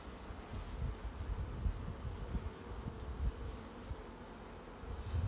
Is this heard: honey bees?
yes